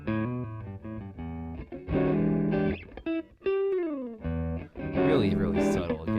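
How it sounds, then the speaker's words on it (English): Electric guitar played through the Creamy distortion setting of the WOW plugin, producing a subtly crunchy, sustained chordal tone with some bent notes, heard alone and fairly quiet. "I'll go back to give you an audio example here with a guitar sound. If we listen through Creamy,"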